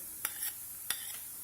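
Two quick, quiet scraping strokes of a spoon move green chilies, garlic and lightly browned onions around a pan over lowered heat, over a faint background hiss.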